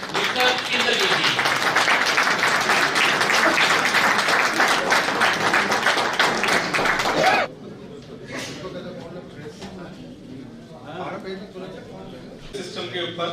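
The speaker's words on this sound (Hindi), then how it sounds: "अब मंच पर उनको बुला रहे हैं जोरदार तालियों के साथ" Loud audience applause fills a hall as a speaker is welcomed onto the stage, sustained dense clapping for about seven seconds before it cuts off, leaving quiet room sounds and a few faint voices.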